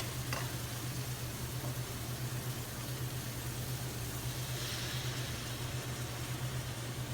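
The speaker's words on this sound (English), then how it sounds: "We're going to deglaze the pan with the wine and let the wine cook out the alcohol slightly." Wine deglazing a hot pan after browning, producing a continuous, even sizzling hiss over a low background hum, with no talk.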